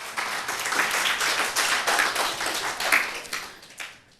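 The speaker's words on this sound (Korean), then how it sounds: "박수 한번 주실까요?" A church congregation claps at an afternoon worship service, a dense, steady round of applause from many hands that holds for several seconds before tapering off.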